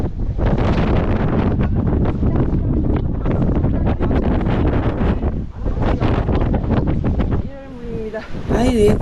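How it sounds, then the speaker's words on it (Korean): Strong gale roars in gusts through the rock arch on a rocky mountain ridge near the summit, buffeting the microphone loudly and nearly continuously; a voice speaks briefly near the end. "일월문 사이로 바람이 엄청나게 불고 있습니다"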